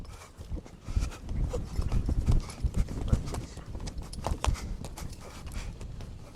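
A fast horse called Bishkek gallops past, its hooves clip-clopping in quick irregular beats on the ground, moderately close, with faint background sound.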